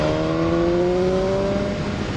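BMW S1000R motorcycle engine pulling from low revs, a steady loud drone with rising harmonic tones held close throughout, no talking.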